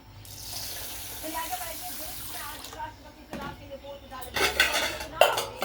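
Rice being washed by hand in a metal pot of water: swishing water with repeated clinks and scrapes of grains against the pot, growing busier and louder toward the end, heard close up.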